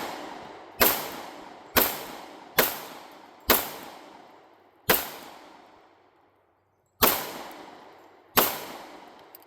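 Seven sharp pistol shots from a Glock 21 Gen 5 or SR1911 LW Commander, loud and close at uneven intervals, each followed by a ringing outdoor echo that fades before the next, with one longer pause midway.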